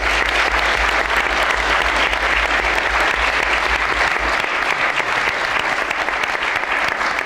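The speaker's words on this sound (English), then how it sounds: "I would like to give a big applause to all of them," Loud, sustained applause fills the hall at the closing ceremony of the IMAV 2019 conference, with a thick, unbroken wash of many hands clapping that never dies down.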